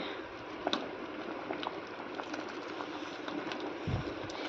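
Toor dal saaru, a thick lentil soup, simmering in a pot with a low, steady bubbling and soft popping, quiet and continuous with a couple of slightly louder blips.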